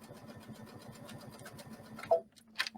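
A sewing machine stitches with a blind hem foot while making a tie pillow, with a quiet, rapid, even needle rhythm that stops after about two seconds, followed by a couple of soft clicks.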